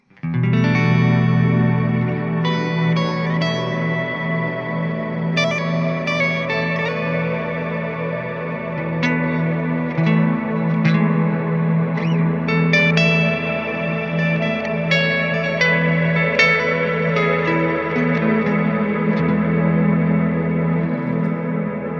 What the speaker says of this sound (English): This is an absolutely beautiful reverb type, and you have so many more options with it.